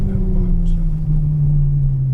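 A Ferrari F12 Berlinetta is driven at Exotics Racing in Las Vegas. Its engine and exhaust give a loud, steady, low droning rumble, heard close, as from inside the car.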